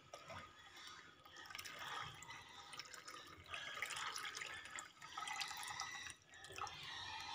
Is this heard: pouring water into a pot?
yes